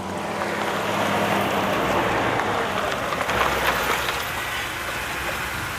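Steady, heavy rain falls at a seaside beach as a dense, continuous hiss with a low rumble underneath. No speech is heard.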